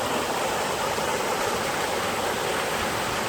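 Rushing water of the İsrafil stream and waterfall near Başkarcı, Denizli, a steady broadband roar that holds unbroken throughout, close and moderately loud, with no voices.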